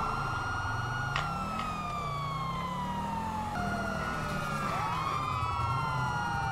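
A police vehicle siren wails in GTA V, loud and continuous, with several overlapping tones sweeping and gliding over a steady engine drone.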